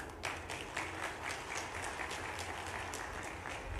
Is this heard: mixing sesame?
no